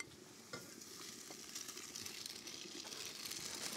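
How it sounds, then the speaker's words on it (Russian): Ham and onion fry quietly in a pan, giving a soft continuous sizzle with faint crackles and a few stirring scrapes that grow slightly louder toward the end, with no voices. "И ветчину я обжариваю вместе с луком"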